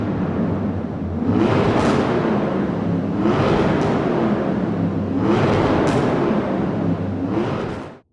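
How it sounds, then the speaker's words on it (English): Porsche 928 GTS engine in the video game Forza Horizon 4, a steady engine whir that rises in repeated revving swells about every two seconds before fading out at the end. "Let's go race a Porsche 928."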